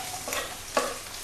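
Onion and capsicum are stirred in a hot pan over a high flame, with a steady sizzle and two quick scraping stirs, close by.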